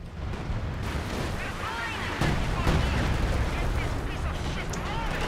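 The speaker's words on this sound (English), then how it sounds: "that artillery strike they're using lasts for like a million years" Artillery strike in the video game Company of Heroes 2, a continuous heavy rumble of shelling and gunfire with rolling booms that swell midway, under faint talk.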